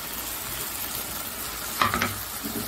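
Ground garlic fries in oil for a pickle with a faint, steady sizzle, broken by a short burst of stirring scrapes near the end.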